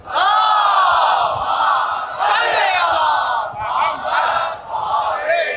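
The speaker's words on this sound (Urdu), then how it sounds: "اور بلند صلوات پڑھیں" A large religious gathering loudly recites salawat together, a massed chorus of voices rising and falling in long chanted phrases with brief dips between, loud and filling the space.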